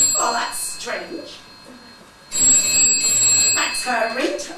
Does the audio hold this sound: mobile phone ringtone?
yes